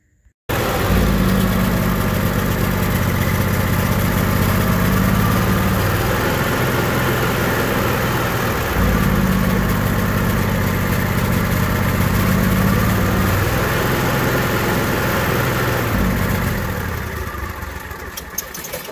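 An Onan Marquis Gold 5500 generator engine runs at close range with a steady drone that audibly dips and swells in a slow surging cycle, then fades slightly near the end; no speech.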